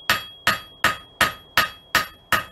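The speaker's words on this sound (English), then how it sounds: "I'm using the peen of the hammer." A forging hammer's peen strikes a hot steel leaf in a steady rhythm, seven sharp, ringing blows about a third of a second apart, close and clear with no voices.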